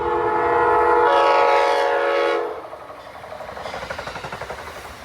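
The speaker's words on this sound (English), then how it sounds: "This train is being led by Amtrak cab car number" An Amtrak Keystone Service train on the Northeast Corridor, led by a cab car, sounds a loud horn blast and then rolls past close by with rhythmic wheel clicks over the rails.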